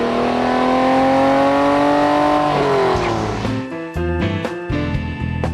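A classic 1964 Chevrolet Impala lowrider's engine drones loud and steady, then its pitch shifts and breaks into choppy revving bursts toward the end.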